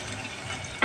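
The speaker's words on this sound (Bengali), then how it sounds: "আগে একটু ভেজে নাও" Bay leaf and whole spices fry in a pan while being stirred for a Khasi dish, a brief, steady, close sizzle with a slight scrape at the very end.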